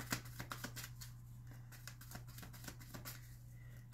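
Playing cards riffle and slap quickly as a deck is shuffled and added to, a faint run of soft rapid flicks and taps, busiest at the start.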